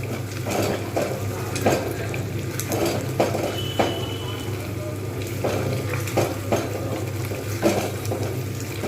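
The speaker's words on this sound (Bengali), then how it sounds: "ভালোভাবে আমি এরকমভাবে কষতে থাকবো তেল ছাড়তে শুরু করলে আমি এতে একটু জল দিয়ে দেবো" Paneer masala frying in oil in a pan, a continuous sizzle with regular stirring scrapes and a few clinks of the utensil against the pot, with water added as the cooking goes on.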